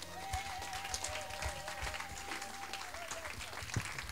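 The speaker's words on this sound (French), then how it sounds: "Acclamons pour le Seigneur." Church congregation applauding at a temple dedication service, steady dense clapping from a crowd with a voice calling out faintly underneath, moderately distant.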